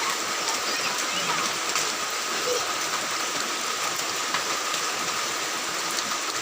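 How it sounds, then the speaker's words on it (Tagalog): Steady rain pours down in a dense, even hiss, with people talking faintly underneath. "Bam, happy ka na ligo sa ulan?"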